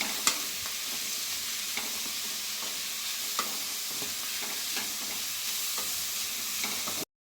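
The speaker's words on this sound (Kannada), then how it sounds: "ಒಂದು 2 ನಿಮಿಷ ಎಣ್ಣೆಯಲ್ಲಿ ಸ್ವಲ್ಪ ಫ್ರೈ ಮಾಡಿಬಿಟ್ಟು ಸೈಡಿಗೆ ಎತ್ತಿಡಿ" About 200 grams of mushrooms fry in oil in a pan for an aloo mushroom gravy, with a steady close sizzle broken by scattered scraping stirs of a spatula and no voices throughout.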